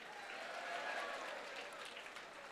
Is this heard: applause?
yes